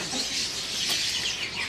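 Brightly coloured loper canaries chirp in short bursts amid a busy bird market stall, with other birds and ambient noise around them.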